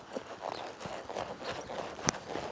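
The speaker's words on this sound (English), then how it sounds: "So I didn't lope this horse up to this barrel" A horse loping in a three-beat rhythm, with soft repeated hoof clip-clops on arena ground at moderate distance, fairly faint and steady throughout.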